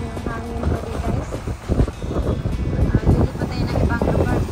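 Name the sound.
strong wind while fishing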